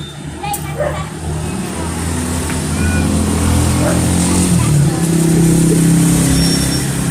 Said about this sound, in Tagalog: So highway, marami kasing sasakyan.